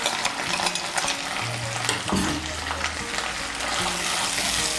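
Paste of four green chillies and half a tomato sizzles steadily in hot oil in a pan, stirred with occasional scraping and a sharper splatter midway, close and continuous with no talk.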